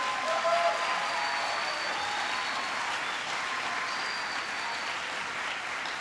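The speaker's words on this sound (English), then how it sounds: "And give them all a big round of applause." Sustained audience applause at an education event in Madison, Wisconsin, with dense, even clapping from a large crowd filling the hall for the full stretch, and faint whistles heard above it.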